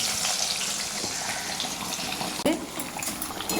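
Chopped onion tipped into hot oil spiced with bay leaf, dried red chilli, whole cardamom and nigella seeds for a mutton kalia, a steady close hiss and sizzle that jumps louder with a sudden burst partway through.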